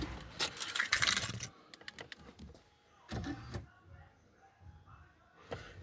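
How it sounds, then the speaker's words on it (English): Keys jangle loudly for about a second as a car's engine is switched off after a battery install, followed by a few scattered clicks and clunks and quieter handling noises. "So now I just shut the motor off"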